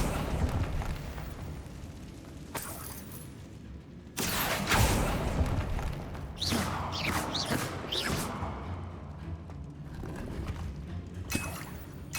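Confringo fire spell blasts in the Hogwarts Legacy video game, inside a decayed catacomb, with a sharp burst and rumbling roar near four seconds, followed by several crackling, whooshing impacts over a low continuous ambient drone.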